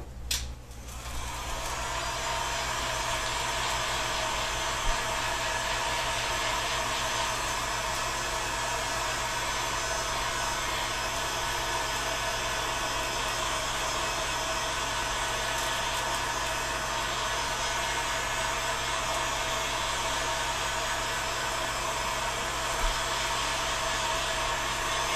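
A heat gun warms a section of a PVC bow, giving off a steady, continuous blowing roar with a low hum underneath. It runs unbroken and close for the whole stretch, with no speech.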